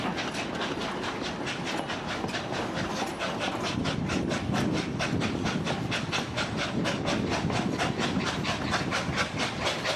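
A tourist train on the Durango and Silverton line rolls along, with a loud, steady clickety-clack of wheels over rail joints repeating rhythmically against a continuous rumbling background, with no talk.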